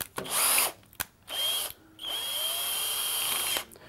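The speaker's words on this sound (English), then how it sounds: "slowly tighten it up until the drill itself is locked around the screw." A power drill whirs in several short bursts, then runs steadily for a longer stretch as its chuck tightens around a screw, winding down at the end. Close and fairly loud.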